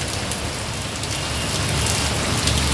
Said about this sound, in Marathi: चांगलीच रिपरिप पावसाची या ठिकाणी सुरू आहे